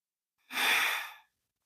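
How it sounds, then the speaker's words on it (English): A single slow, deep breath during a yoga session sounds as a soft, breathy exhale close to the microphone, lasting under a second in quiet surroundings. "We'll take 2 more breaths."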